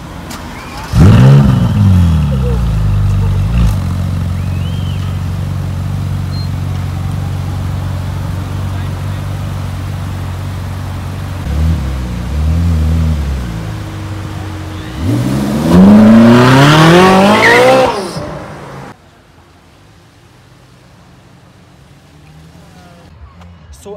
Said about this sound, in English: So I hope to get the startup now of the 458